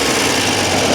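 A Triumph Trident T160 motorcycle engine runs continuously with a slight misfire, a close, loud, steady mechanical drone filling the short moment with no voices.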